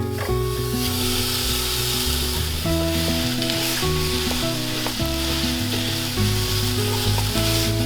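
A pound of lean ground beef frying in a Dutch oven on medium-high heat, producing a loud, continuous sizzle with scraping and stirring over a steady musical background.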